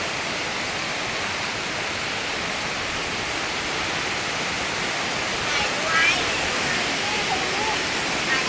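Loud, constant roar of nearby Khlong Lan Waterfall in Kamphaeng Phet, Thailand, a dense broadband rush that fills the scene without pause.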